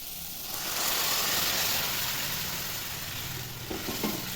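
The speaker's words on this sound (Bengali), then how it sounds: "টমেটো ভালো করে ভাজা হয়ে গেছে এবার সবজিটা ঢেলে দেবো" Steady loud sizzling of tomatoes frying in a hot pan before vegetables are added, with a brief clatter of stirring near the end.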